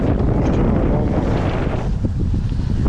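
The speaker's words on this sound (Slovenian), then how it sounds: "Danes je pa kar vetra" Strong wind roars across the microphone aboard a sailboat at sea, a dense continuous rushing noise with water sounds beneath, loud and alone without talk.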